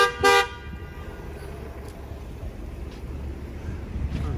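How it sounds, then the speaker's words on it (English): Car horn honking on a busy Brooklyn street, one loud blast near the start over steady traffic rumble and wind, with fainter toots further off afterward. "So much honking here."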